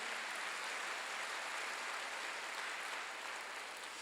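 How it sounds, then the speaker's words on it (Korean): Church congregation at a Wednesday worship service claps together, an even, continuous wash of applause filling the room without pause. "믿는 사람은 박수야."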